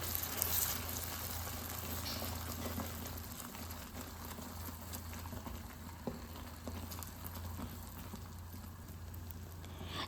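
Butter being stirred into a snickers filling in a pan, a continuous bubbling, sizzling hiss with soft stirring underneath, close and moderately quiet with no talking.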